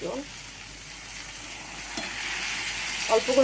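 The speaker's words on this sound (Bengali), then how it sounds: "এইভাবে হতে থাকবে আর আমি মাঝে মাঝে নাড়তে থাকবো আলগা করে করে" Bengali labra, a mixed vegetable dish, fries in a pan with a soft, steady sizzle, quiet and close, and a light stirring clatter near the end.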